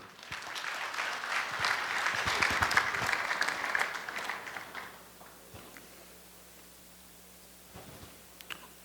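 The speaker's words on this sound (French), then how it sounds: "Nous vous demandons de l'applaudir chaud." Audience applause at a university graduation ceremony, a warm burst of clapping that swells for about four seconds and then fades to scattered claps in a quiet hall.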